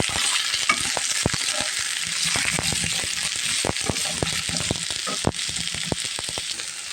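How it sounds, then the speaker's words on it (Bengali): Potatoes and eggplant fry steadily in hot oil, with a continuous close sizzle broken by frequent crackles and pops, and no one talking. "বেগুনের সাথে আলুটাও দিয়ে দেবো আলুটা দিয়ে আমি সুন্দরভাবে ভেজে নেব"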